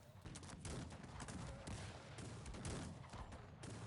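Dense, crackling volleys of musket fire from massed infantry units in the strategy game Cossacks 3 on a realistic battlefield, with overlapping shots rattling steadily and loudly throughout, with no pauses and no voices.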